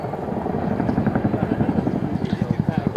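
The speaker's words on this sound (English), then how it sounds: "Characteristic blade slap of the twin rotor Chinook, much in evidence on that low and fast pass." A twin-rotor Chinook helicopter making a low, fast pass, its rhythmic blade slap throbbing loudly and steadily, while someone talks over it.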